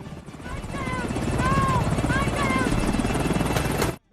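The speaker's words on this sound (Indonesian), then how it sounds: "Helikopter pun langsung menjauhi Scotchy" A helicopter's rhythmic rotor thumping, steady and fairly loud, with brief voices over it before the sound cuts off abruptly.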